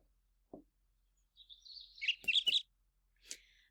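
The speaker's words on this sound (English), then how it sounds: "We'll start with birdsong." Songbird calls in a quiet setting: a short note, then a thin whistled tone leading into a quick run of three bright chirps, and one final chirp after a pause, fairly clear and alone.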